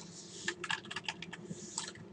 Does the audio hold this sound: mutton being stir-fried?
no